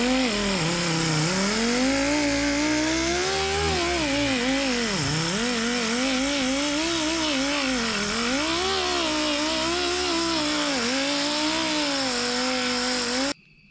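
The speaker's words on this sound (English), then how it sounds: "I'm gonna get in here with my grinder. Got my Rolock disc on there, 24 grit, and we're just gonna grind all this mud out here" An angle grinder fitted with a 24-grit Roloc disc grinds body filler off a '59 Dodge Coronet, a loud continuous whine whose pitch dips and rises repeatedly as pressure on the panel changes, then stops abruptly at the end.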